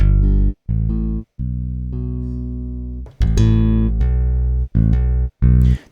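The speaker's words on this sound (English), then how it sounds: "Now let's look at one of the most recommended freebies, the Ample P Bass Lite." Ample P Bass Lite electric bass plugin playing a short line of deep, sustained bass notes with brief gaps between them, loud and close, with no voice.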